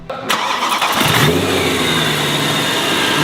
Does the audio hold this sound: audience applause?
no